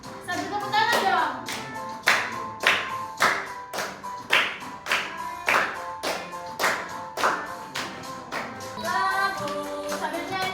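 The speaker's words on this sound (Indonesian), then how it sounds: "Sambil tepuk tangan dong." Grade 4 schoolchildren clap their hands in a steady rhythmic beat in a classroom, loud and close, with some children singing and talking underneath.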